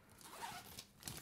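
A zipper on a Fender wallet is pulled open once, a quiet close rasping slide lasting about a second with a small catch at the end.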